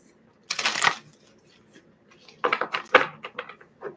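Two bursts of crisp papery riffling, close by, separated by a quiet pause, as oracle cards are shuffled by hand.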